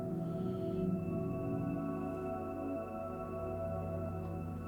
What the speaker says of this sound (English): Maybe we add a bit more reverb in this second part.